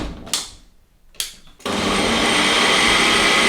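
A countertop blender whirs through a protein shake mixed with water, starting after a few short clicks and thumps, then running loud and steady to the end.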